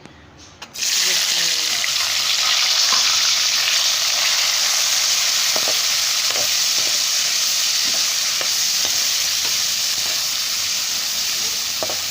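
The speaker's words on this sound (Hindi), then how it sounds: "अब हम ऑयल में प्याज और टमाटर शामिल कर देंगे" Steady, loud sizzling of onion and tomato frying in hot oil, continuous throughout with faint clinks of stirring.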